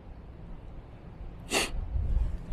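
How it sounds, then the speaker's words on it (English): A single short, sharp nasal sniff from a person standing outdoors in strong wind, heard once over steady gusting wind noise. "And excuse the sniffling."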